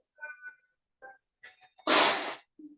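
A person sneezes during a pilates class, a short intake of breath followed by one loud burst, near and dry, with quiet breathy sounds before and after.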